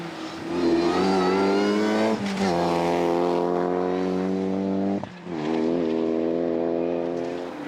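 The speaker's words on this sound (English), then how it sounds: "17th, and the third of the Minisport BMW Minis, Ian and Gary Davis." Minisport BMW Mini rally car on the Tour of Mull rally roars past close by, its engine note climbing through gear changes with a brief lift near the middle before pulling hard away.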